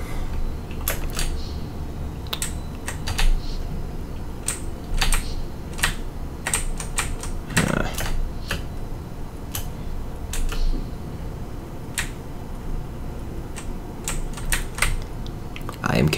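A computer keyboard clatters with irregular clusters of sharp key taps while a game of Four Sided Fantasy is played, close and steady over a constant background hum with no clear talk.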